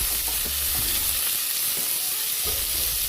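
Cut potatoes frying in a pan, heard as a loud, dense, steady sizzle up close with occasional low stirring knocks beneath it.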